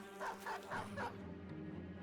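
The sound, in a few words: dog barking in Battle Brothers video game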